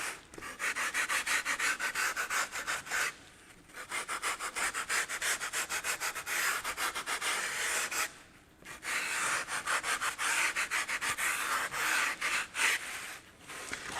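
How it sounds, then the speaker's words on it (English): A small hand rasp scrapes a wooden butterfly carving in quick, even back-and-forth strokes, close and fairly quiet, with two short pauses between bursts. "I have another small rasp here. You can do some nice detailing with it."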